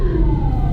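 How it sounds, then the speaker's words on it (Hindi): An ambulance siren passing by outdoors, a loud steady tone that slowly falls in pitch over a dense rumble of street noise. "एम्बुलेंस जा रही है, अल्लाह खैर।"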